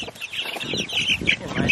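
A brood of 22 black chicks, almost a month old, chirps and clucks close by indoors, a busy overlapping chatter of soft peeps and short calls.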